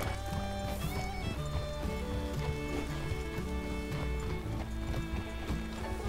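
Wild horses' hooves clip-clop in a rapid, steady rhythm in a horse-breeding video game, over continuous tonal background music.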